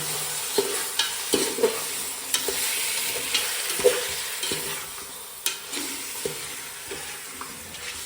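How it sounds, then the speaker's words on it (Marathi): Chicken and chopped onion fry in a pan with a steady sizzle, while a spoon stirs and scrapes at a regular rhythm, clicking against the pan every second or so, close up with no talk. "चिकनला फोडणी दिलेलं आहे. डायरेक्ट कांदा टाकून हळूहळू ट्राय करें."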